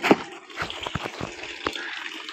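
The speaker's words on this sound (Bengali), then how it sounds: "এবার জল ভরতে দিয়ে দিয়েছি" Water runs into a container to soak clothes, a close splashing gush broken by a few knocks and clunks as it fills, with no speech.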